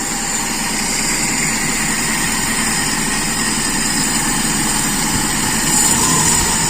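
A warm motorcycle engine idles smoothly after its carburetor has been adjusted, a steady, even running note close by with no revving. It is loud and continuous throughout, with no voices.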